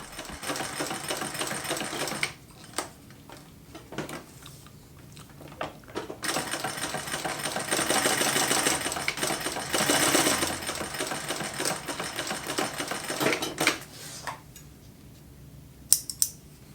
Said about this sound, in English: Then I sewed them together,